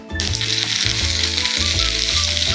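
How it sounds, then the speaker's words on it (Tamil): Red snapper fish frying on a tawa, loud, close sizzling with rhythmic pulses as the pieces are pressed down with a ladle, no speech. "இப்படி தவா ஃப்ரை பண்ணும்போது வந்து நம்ம இப்படி கரண்டியில் போட்டு இப்படி அமுக்கி விடணும்"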